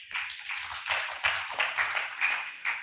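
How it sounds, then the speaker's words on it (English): An audience at a land restoration panel applauds the four panelists of the first segment, with continuous clapping in gentle pulsing waves that stays moderately loud throughout. "Aussi applaudir les 4 panélistes"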